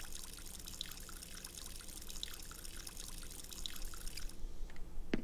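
Water runs steadily from a garden faucet in the Animal Crossing: New Horizons video game, a soft continuous pouring trickle with faint repeating drip-like chimes, growing a little louder toward the end, with no talking.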